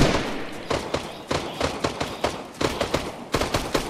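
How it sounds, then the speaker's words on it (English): Gunfire from the video game Fortnite rattles out in rapid bursts of sharp shots, clustered volleys repeating through the stretch with brief gaps between them, close and fairly loud, with no voices. "More shooting."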